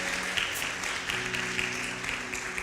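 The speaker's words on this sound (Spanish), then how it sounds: "Le damos un aplauso a aquellos que están por primera vez" Church congregation applauding first-time visitors at an evangelical service in Manantiales, a steady dense wash of many hands sustained throughout with a faint tonal hum beneath.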